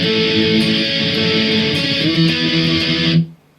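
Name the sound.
distorted electric guitar playing song intro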